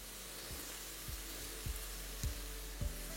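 Chopped herbs sizzle in hot oil in a pan, cooked for mushroom and herb rice: a steady close-up frying hiss with a few soft periodic knocks underneath.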